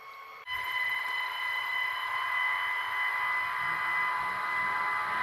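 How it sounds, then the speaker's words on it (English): DC cooling fans on a power distribution unit spin up after a brief quiet moment, then hold a steady, loud whirring hum with a bright tonal whine for the rest of the time, with no talking. "So we're going to start the AC fans first. I'm sorry, the DC fans first."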